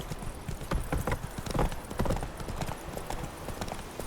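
Hooves of the horse Roach clopping steadily along in the video game The Witcher 3, a continuous rhythmic trot close up and fairly loud, with a faint whinny.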